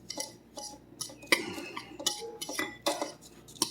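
A utensil mixes baking powder into batter in a bowl, making a series of close, irregular clinks and scrapes against the bowl's sides at a quick pace.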